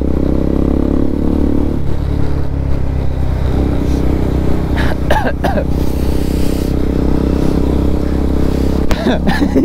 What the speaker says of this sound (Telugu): Z900 కన్నా మన బైక్ ఎక్కువ లౌడ్ వస్తుంది